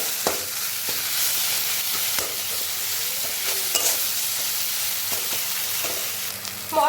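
Spice paste for an egg curry fries in a pan, a continuous moderate sizzle with intermittent sharp scrapes of a stirring spoon throughout.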